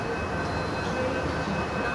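Mumbai Metro train pulling out of National Park station, a steady rumbling drone with a faint high whine, heard from inside the carriage with no talk.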